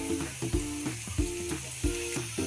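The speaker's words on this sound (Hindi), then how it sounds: "अब इसको दूसरे तरफ से भी ऐसे ही फ्राई करके लेंगे" Dal chilla frying on the second side in a pan over low gas, with a soft continuous sizzle broken by several sharp clanks and scrapes of a utensil against the pan, close and without talk.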